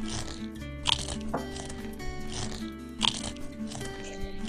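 A family eats dinner in the PlayHome video game, with repeated crunchy bites and chewing sounds at an uneven pace over steady game music, and no speech.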